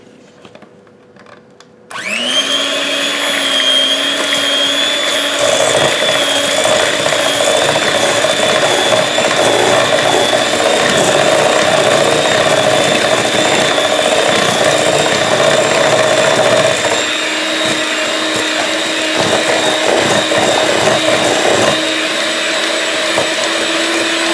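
Zucchini bread batter of sugars, eggs, oil and vanilla being mixed by an electric mixer, a loud, steady motor whine that starts abruptly and runs continuously with slight shifts in load, close and alone.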